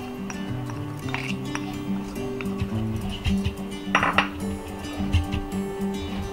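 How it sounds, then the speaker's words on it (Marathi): A spoon clinks and taps against a bowl as chickpea gram flour goes in for corn pakoda batter, with light scattered knocks over a humming background and one sharper clink partway through. "आता हे डाळीचं पीठ घालते याच्यामध्ये."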